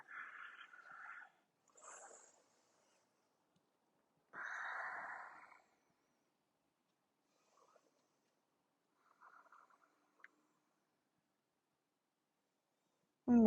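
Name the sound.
deep breathing during yoga practice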